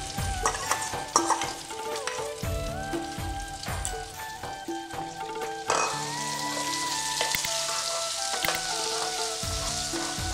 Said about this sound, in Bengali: ঘিয়ের মধ্যে গাজরটাকে ভালো করে ভাজতে হবে